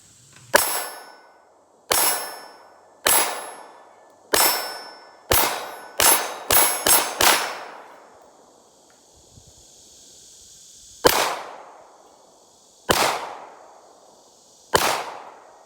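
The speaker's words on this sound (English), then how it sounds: "Throw a couple down here to the 50-yard gong, just see if we can hit it today." An FN Five-seven pistol fires at a steel gong 50 yards downrange: sharp shots, each followed by a ringing metallic clang, first spaced, then a quick cluster of five, then three more spaced hits after a pause.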